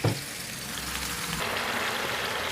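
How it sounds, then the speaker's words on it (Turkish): Steady sizzling of 400 grams of minced meat frying in oil in a hot pan, a constant crackling hiss at close range after a brief clatter at the start. "400 gram kıyma, biraz sıvı yağ tavama aldım. Şöyle hafif kavuracağım."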